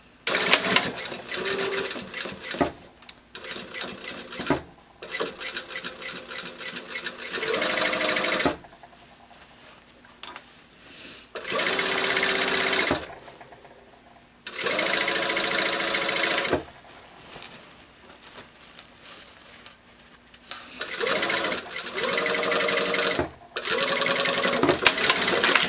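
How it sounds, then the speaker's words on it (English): A sewing machine stitches a zipper seam on a pencil skirt in several bursts of rapid mechanical whirring, separated by short pauses. "now we're just going to sew that in place"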